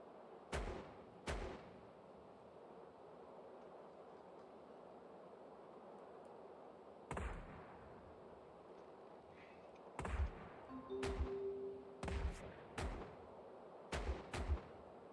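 Ship cannons fire broadsides in the pirate game Caribbean Legend: sharp booming shots arrive singly and in quick clusters, some close and loud, with gaps of low rumbling ambience between volleys.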